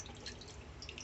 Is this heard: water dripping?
yes